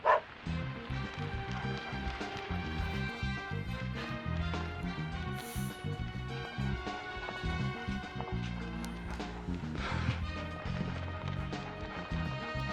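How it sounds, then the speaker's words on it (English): A dog barks repeatedly in the game Deadly Premonition Origins, a run of sharp yips set against a busy musical score and steady rain ambience, fairly faint beneath the music. "A dog."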